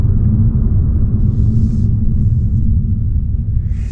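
A 2026 Mazda 3 hatchback with a naturally aspirated inline-4 and six-speed automatic cruises along, giving a steady low cabin rumble and road drone with no voices.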